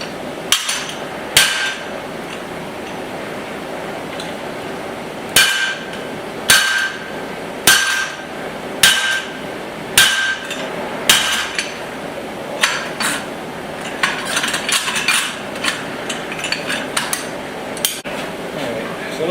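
A hammer strikes hot metal on an anvil while a small axe is forged, ringing blows falling in uneven bursts, some spaced, others in quick runs, over quiet background noise.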